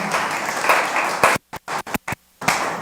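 A burst of applause from a church congregation fills the first part, then breaks into a few scattered claps and brief pauses before resuming.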